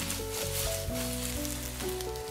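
Eggs fry in a wok until golden on both sides for a wood-ear mushroom and egg stir-fry, a continuous close sizzle over a low tonal hum, with no talking.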